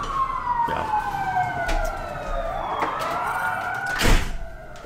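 A wailing siren sweeps steadily up and down in pitch, loud and fairly close, with a brief sharp burst of noise near the end.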